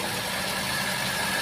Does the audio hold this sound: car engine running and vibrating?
yes